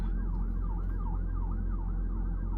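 A wailing ambulance siren sweeps up and down repeatedly over heavy low traffic rumble, loud and steady throughout.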